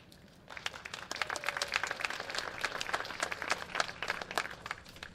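An audience at an ArtNow 2024 awards event applauds, dense and sustained clapping from a sizable crowd in a hall, steady and fairly even throughout without speech.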